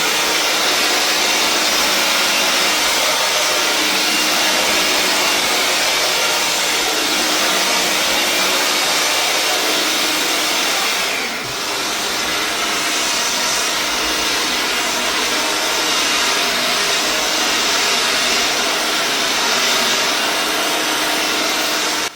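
A Parkside 20V cordless leaf blower, model PAUGB A1, runs continuously with a loud, steady high-pitched rushing whine, dipping slightly for a moment midway before resuming at full strength, with no speech.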